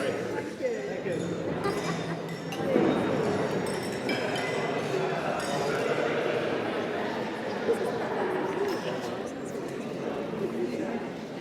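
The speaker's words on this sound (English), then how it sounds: "Can we also raise a glass to Sharon and Chris?" Wedding guests raise a toast in a busy reception hall, light clinks of glasses scattered through a steady murmur of crowd chatter and talk.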